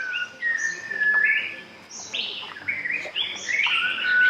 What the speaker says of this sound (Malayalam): കിളികളുടെ ശബ്ദം ഭയങ്കര രസമാണ് കേട്ടോ കേൾക്കാൻ